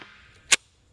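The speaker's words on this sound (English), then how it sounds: "Okay, that was a light fire, or a light primer strike." A Sig P320 pistol with a light primer strike and failure to fire, a single sharp metallic click or snap, close and brief, standing alone against quiet background.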